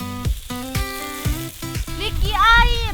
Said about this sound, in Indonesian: Seperti biasa, bumbu ditumis.